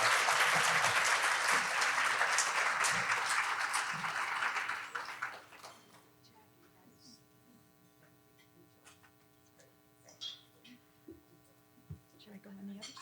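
Audience applause welcoming a speaker at a moderated author conversation, a dense sustained clapping that fades out after about five seconds, leaving quiet room hum with scattered small noises.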